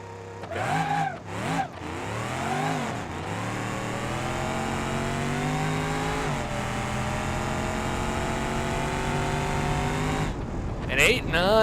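A car engine in BeamNG.drive revs hard against a two-step launch limiter at about 4,000 RPM, holding a steady loud drone for several seconds with rising pitch sweeps, then releasing with tire noise at the end.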